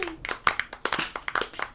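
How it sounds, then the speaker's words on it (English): A few people clapping in a small room at the close of a casual podcast episode, with sparse, uneven claps over a few seconds and light voices mixed in. "give a big round of applause to Chris"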